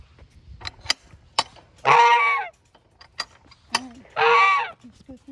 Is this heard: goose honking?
yes